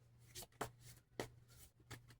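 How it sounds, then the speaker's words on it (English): A deck of large oracle cards being shuffled by hand, heard as several quiet, crisp riffling flutters in an uneven rhythm, close and soft, with no talking. "Give this a little shuffle here."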